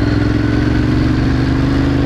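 A CG motorcycle with a silencer on its exhaust idles without throttle, its steady low engine rumble and light mechanical clatter continuous and close throughout.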